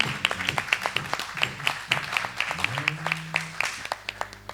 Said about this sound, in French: On acclame pour la sœur Déborah.